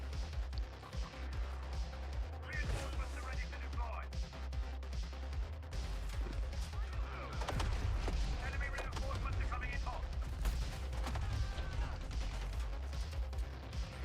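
Rocket launcher fire in a video game: a dense, loud barrage of shots and blasts rolls on for many seconds, with speech partly heard under the gunfire.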